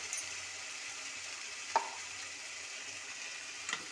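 Spiced onions and masala fry in a pan for a chana dal and fish dish, giving a soft, steady sizzle with a couple of sharp stirring clinks, and no talking.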